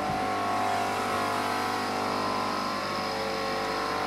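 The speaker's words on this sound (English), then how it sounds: "So let's turn that compressor on. It's going to get a little loud" Nearby air compressor runs continuously, a loud steady mechanical drone with a high whine, with no voices over it.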